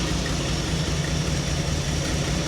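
A 1977 Dodge engine with an exhaust leak idles steadily and close up, a continuous low rumble with a fine rapid ticking texture throughout and no voices.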